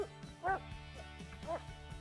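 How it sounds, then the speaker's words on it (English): A hunting dog in theHunter: Call of the Wild gives two short barks about a second apart over quiet game ambience. "You don't need to wait for the bark."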